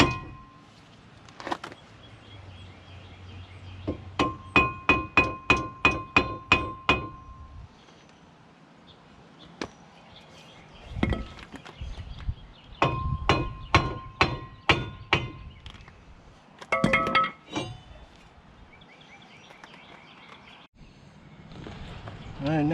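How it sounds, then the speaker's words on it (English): A hammer strikes the wheel rotor of a racecar during a wheel stud replacement. The blows come as sharp metallic clangs in two rapid rhythmic bursts, separated by quieter gaps and a few isolated knocks. "Then the rotor, you also smack with a hammer."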